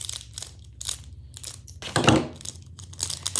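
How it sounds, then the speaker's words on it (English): Scissors cut open plastic toy packaging from a surprise doll box, giving a series of crinkling, crunching snips and rustles at close range, with a louder crackle midway. "I do have these scissors to cut them open"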